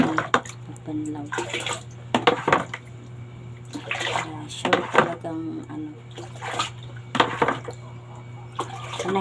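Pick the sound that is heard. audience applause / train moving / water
water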